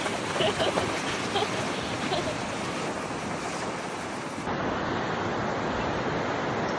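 Broad, steady rush of ocean surf washing over the beach, with wind buffeting the microphone throughout.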